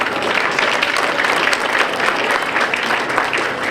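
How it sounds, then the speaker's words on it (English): Steady crowd applause for senior showmen at a youth fair market goat show, a dense even patter of many hands lasting throughout without a break. "applause to our senior showmen."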